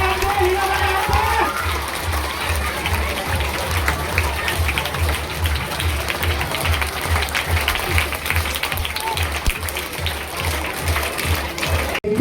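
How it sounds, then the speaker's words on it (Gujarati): Sustained applause from an audience at a school gathering in Gujarat, steady dense clapping that continues throughout with a rhythmic low thumping underneath and occasional voices mixed in. "તાળી ચાલુ રાખો."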